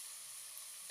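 Ground onion-garlic paste sizzles in about a cup of cooking oil in a pot over a medium flame, the base for masala aloo gobhi: a steady, close, bright hiss with a small rise in crackle near the end.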